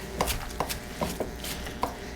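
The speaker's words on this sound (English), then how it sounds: "you're gonna mix that, chop that" Knife chopping on a board, five or six sharp, evenly spaced thwacks close by, with a faint kitchen hum underneath.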